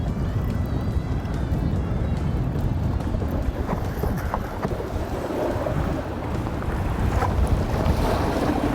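Boat motoring through choppy water on a walleye trolling trip, with steady loud wind buffeting the microphone, waves slapping the hull and engine rumble running continuously throughout.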